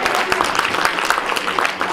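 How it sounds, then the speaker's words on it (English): Congregation clapping hands together during a worship service at an apostolic church, a dense, steady patter of many hands filling the room throughout with a few sharper claps standing out. "Come on, clap your hands and praise them,"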